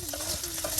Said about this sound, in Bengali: পেঁয়াজ কুচি, এই মরিচ কুচি সব একসাথে দেখুন তেলের সাথে সুন্দর করে কিন্তু এগুলি ভাজা ভাজা করে নেওয়া হচ্ছে